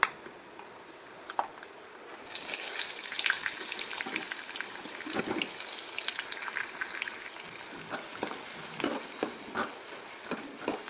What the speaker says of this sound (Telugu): ముందుగా మనం రెడీ చేసి పెట్టుకున్న శనగగుళ్ళు, జీడిపప్పు, ఉల్లిపాయలు అన్నీ ఒక్కొక్కటిగా వేసుకోవాలి